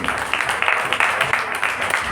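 A church congregation at a revival meeting claps together in a rapid, fairly regular patter of many hands, moderately loud and sustained, with a voice faintly present underneath.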